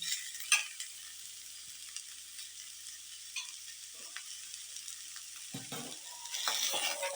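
Potato pieces fry with salt and chili powder in a quietly hissing pan, a soft, steady sizzle broken by occasional scraping stirs and a slightly louder spell at the end. No one speaks.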